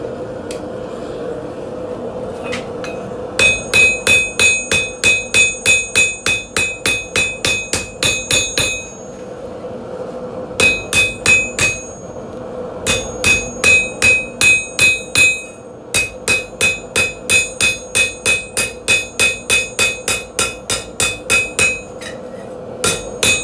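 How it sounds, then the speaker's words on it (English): Hammer blows on a stainless steel knife blade, sharp metallic strikes in rapid rhythmic bursts separated by short pauses, close and loud with no talking. "I'm going to try to clean up any of my hammer blows"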